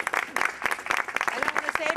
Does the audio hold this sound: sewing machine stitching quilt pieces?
no